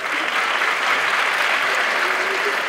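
A studio audience at a TV comedy show claps steadily, dense continuous applause from start to finish, loud and close.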